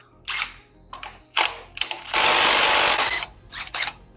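Tools clatter and ratchet in short bursts while the pulley is removed from an RB20 engine during a teardown, with a longer burst of mechanical rattling in the middle and no talking.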